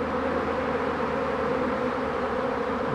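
Dense buzzing of a honeybee swarm heard from right in the middle of it, a thick continuous drone at steady loudness with no gaps.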